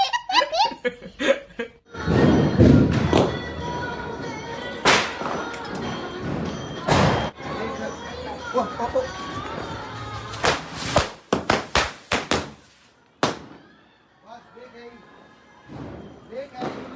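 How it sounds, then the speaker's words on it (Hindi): A series of sharp, loud firecracker bangs during Diwali cracks out irregularly amid laughter and excited chatter from several people, with bursts clustering toward the middle. "जैसे ही हम पटाखे जलाएंगे सारे"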